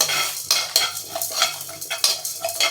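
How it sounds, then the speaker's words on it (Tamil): Peppercorns and dried chillies dry-roasting in a pan for mutton chukka, heard as close, rhythmic stirring scrapes and rattles over a light sizzle, with no voices. "ரெண்டு மிளகா மிளகாயை போட்டு நல்லா வறுத்துக்கலாம்"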